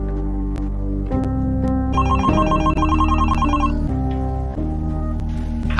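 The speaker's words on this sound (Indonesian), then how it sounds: "Ketika Dini baru sampai rumah, tiba-tiba handphone Dini berdering" A mobile phone rings with a bright electronic ringtone melody, loud and close, playing its repeating tones for the full length with no talking.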